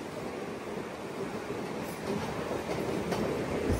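A MEMU passenger train runs on the rails near the Bhimavaram junction route with a continuous rumbling roll, faint rhythmic clickety-clack and a brief wheel squeal, heard steadily from on board with no talk.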